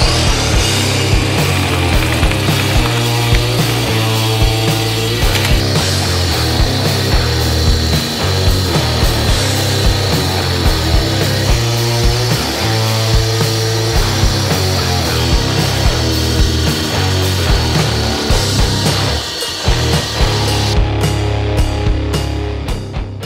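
A loud, continuous grinding whine of a VEVOR electric concrete saw biting into five inches of solid concrete, with water flowing, sustained and close up for the full duration.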